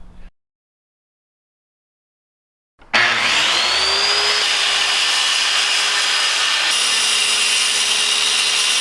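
After a brief sound and a few seconds of silence, a power saw starts suddenly and cuts loudly and steadily through the bottom of a plywood kicker ramp.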